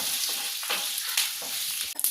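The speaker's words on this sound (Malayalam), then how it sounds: "കടുക് ഒന്ന് പൊട്ടിക്കിട്ടണം" Mustard seeds and urad dal spluttering in hot oil for masala rice, a dense, continuous crackle with sharp pops near the end, close and fairly loud with no talking.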